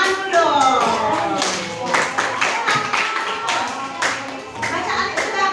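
Children in a classroom clap their hands together in a lively, close burst of applause that runs throughout, with voices mixed in.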